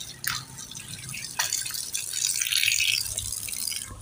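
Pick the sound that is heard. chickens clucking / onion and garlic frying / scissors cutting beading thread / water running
water running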